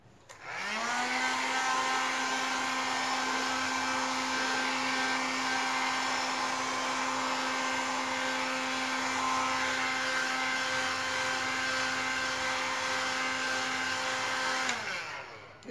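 A hair dryer runs continuously at close range, drying paint on a craft project, a loud steady motor whine and rushing air that spins up, holds for about fourteen seconds, then winds down, alone without speech.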